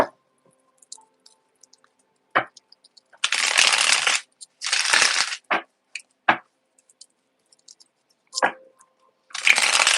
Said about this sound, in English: Just get a good shuffle